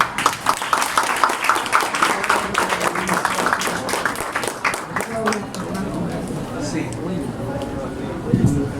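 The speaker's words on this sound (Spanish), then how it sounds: "Ese aplauso como que estuvo anímico." An audience applauds after a talk on Dominican literature with lively, close clapping that gradually thins and fades, and a voice begins speaking over the tail end.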